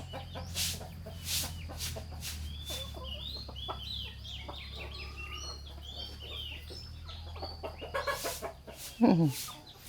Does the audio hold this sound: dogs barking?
no